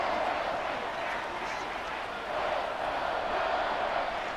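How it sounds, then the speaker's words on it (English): Stadium crowd in the Madden 24 football video game, a steady broadband roar of cheering that swells slightly, with a commentator's voice talking over it. "Crowd getting in it a bit already"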